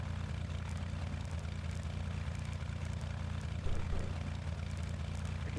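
A light propeller aircraft engine drones steadily in a flight simulator game during a VFR departure in California, a continuous low hum at constant power with no talk over it.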